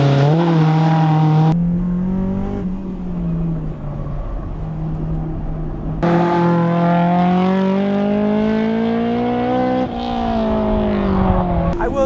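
A Honda S2000 sports car driven hard on a track, its engine loud and close, howling through high revs with abrupt gear-change breaks and rising pulls, no talk.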